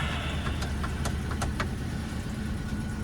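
A totaled Ford F150 pickup engine runs at a steady idle, a continuous low rumble with faint ticking and clicks above it, close and even throughout, with no talking.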